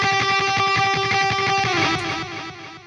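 An electric guitar through distortion with a delay placed after it plays a rapid rhythmic riff of sustained, harmonically rich notes whose repeats smear and echo, then the sound thins and fades at the end.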